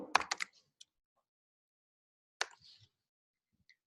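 Keystrokes on a computer keyboard while entering a login and password: a quick burst of clicks, a lone tap, a pause, then another short cluster of clicks, quiet and close in an otherwise silent room.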